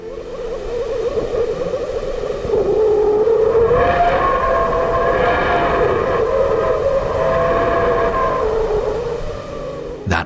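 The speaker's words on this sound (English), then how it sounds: "That was the sound of plasma within the solar wind from the Sun." Solar wind plasma recorded by NASA's Parker Solar Probe near the Sun, rendered as an eerie continuous whooshing drone with a wavering tone that swells after a few seconds and holds steady and loud.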